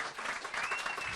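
Studio audience at a live comedy show claps loudly and steadily, a dense wash of applause sustained throughout with no voices over it.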